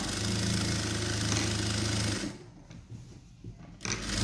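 A sewing machine stitching an A-line kurti runs in a fast, steady, close mechanical whir for about two seconds. It then stops, leaving faint clicks and light handling noise.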